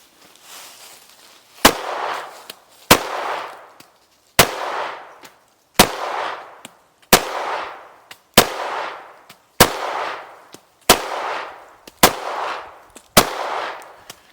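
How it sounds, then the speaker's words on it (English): An IWI Masada pistol fires Hornady Zombie Max expanding rounds in a steady string of about ten sharp, loud shots, each roughly a second and a half apart with a short ringing decay, outdoors and without talk. "we're going to see how it deals with some expanding rounds"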